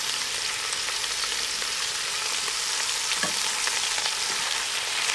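Carrots, onions, celeriac, leek and garlic frying in a Dutch oven give off a dense, even hiss of sizzling, with a few faint scrapes of stirring, close and continuous throughout.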